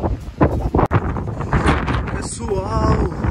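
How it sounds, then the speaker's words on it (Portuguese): Strong, cold wind blowing outdoors near tents in the mountains of Bom Jardim da Serra, Santa Catarina, buffeting the microphone in a steady roar that rises and falls, with a person talking over it. "Olha o vento que tá."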